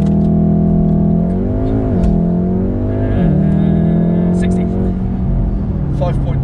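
Engine of a hot hatch, a VW Golf R or Ford Focus RS, under hard launch acceleration from inside the cabin: loud continuous drone rising in pitch through the revs, dipping at gear changes and climbing again, with people talking over it.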